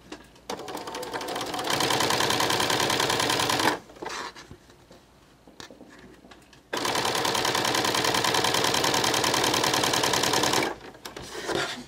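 Sewing machine fitted with an edge joining foot stitching a garment seam, running in two long steady bursts with a fast even needle rhythm, close and loud, separated by a quieter pause with small handling noises.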